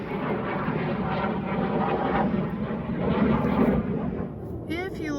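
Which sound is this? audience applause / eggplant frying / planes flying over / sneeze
planes flying over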